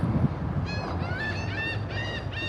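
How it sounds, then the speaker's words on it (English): Geese honking outdoors, a run of repeated nasal calls in quick succession at moderate distance over a steady low background rumble. "The bird call."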